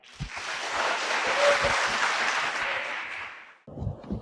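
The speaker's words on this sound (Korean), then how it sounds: "우리와 같은 박수로 알렉스 캘리코스의 발언을 듣도록 하겠습니다" Audience applause welcoming a speaker to a lecture, a dense burst of clapping that swells and holds for about three seconds, then drops away abruptly before a voice begins.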